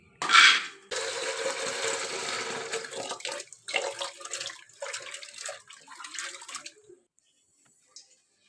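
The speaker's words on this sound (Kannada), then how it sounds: "ಒಂದು ಕುಕ್ಕರ್ ತಗೊಂಡು ಅದಕ್ಕೆ ಅಲಸಂದೆ ಕಾಳು ಹಾಕ್ಬಿಟ್ಟು ಚೆನ್ನಾಗಿ ಒಂದು 2-3 ಸರಿ ನೀಟಾಗಿ ತೊಳ್ಕೊಬೇಕು." Cowpea beans being washed with water in a pressure cooker, a sharp clatter then several seconds of swishing, sloshing water in uneven bursts close by, fading to near silence with no speech.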